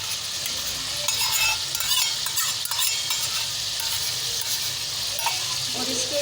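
Curd and tomato paste hit a hot pan and sizzle loudly and steadily. Stirring scrapes and occasional crackles run through the constant frying hiss, with no speech over it.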